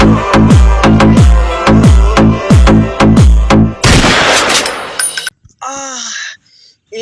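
Staged gunfire in a comedy skit: a rapid run of sharp, loud shots with booming low tails for about four seconds, then a noisy burst fading into a short gasp-like vocal sound.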